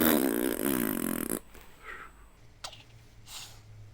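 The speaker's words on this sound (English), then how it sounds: "I think it's actually a motorbike, but it sounds like a giant fart that just doesn't stop" A passing motorbike makes a loud, sustained engine rumble with a buzzy, flatulent rasp that drones for over a second, then cuts off, leaving quiet background with a few faint sounds.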